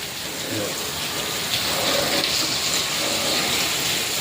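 Heavy monsoon rain pours down after a long dry spell in a thunderstorm, a dense, loud, steady roar of drops on surfaces that swells slightly midway and carries no voices.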